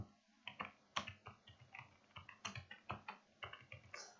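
Someone types on a computer keyboard while entering text in Microsoft Word, with quick irregular key clicks and taps at close range, soft and unaccompanied by talk.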